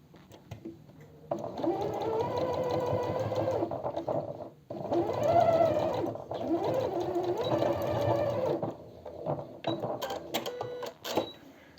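A sewing machine runs in bursts as it stitches the hem of a dress, several sustained whirring runs with brief pauses between them, close and clear.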